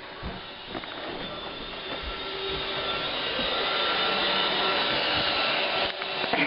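A Roomba robot vacuum cleaner runs close by with a steady broadband whir and hum that swells slightly in the middle, with no talking.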